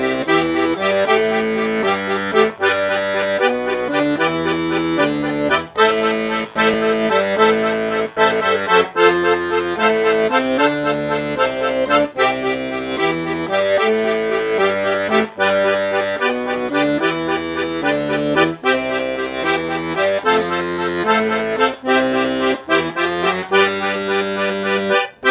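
A piano accordion plays an 8-bar blues in C with bass line and comping chords, a steady rhythmic pattern of pulsing chords repeating throughout, played alone without talk.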